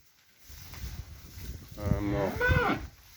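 Amid quiet shuffling, calves begin calling for their mothers, two rising moos swelling up close in the final second and a half, fairly soft overall.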